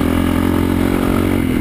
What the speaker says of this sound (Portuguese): o barulho da moto com o pódio é outra coisa